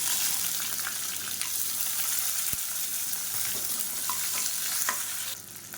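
Onions fry in hot oil with mustard seeds, fennel and curry leaves, a dense close sizzle with occasional stirring scrapes, steady and fairly loud before easing slightly at the end.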